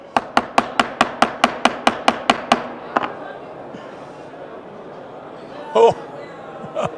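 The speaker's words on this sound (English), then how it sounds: "You can show its strength with the baby hammer." A small hammer taps a phone's screen glass about a dozen times in a quick, even rhythm of sharp clicks, followed by a single later strike, then quiet room sound with brief talking.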